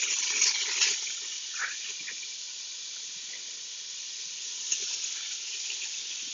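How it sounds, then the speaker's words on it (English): Bacon sizzles in a pot with a soft, steady hiss and faint crackles, heard close up on its own at low volume. "just frying the bacon"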